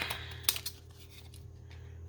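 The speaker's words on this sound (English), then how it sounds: "These scissors are so hard to use." Small scissors snip through paper during a tea-bag and stamp ephemera craft session, giving a few quick, faint, close clicks in the first moments, then near quiet.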